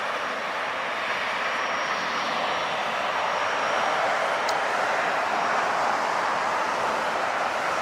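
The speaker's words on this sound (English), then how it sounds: "This is Air Share Bombardier Challenger 350." Bombardier Challenger 350 business jet passing at LAX, a steady broadband engine roar with a thin high whine, holding constant and close throughout.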